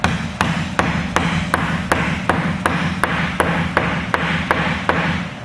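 Steady, evenly spaced hammer taps on wood while assembling dovetail drawers, about two per second, sharp and close, with a low background hum.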